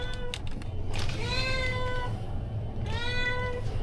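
A cat meows inside a kitchen, three or four clear, drawn-out meows spaced across a few seconds, fairly close, over a steady low room hum with no talking.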